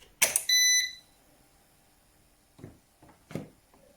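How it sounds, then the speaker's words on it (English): An Eaton 5E 850i UPS unit, freshly unplugged and running on battery, gives one loud, sharp electronic beep, followed by a few quieter clicks and knocks nearby. "We can hear a bit of buzzing and beeping from time to time"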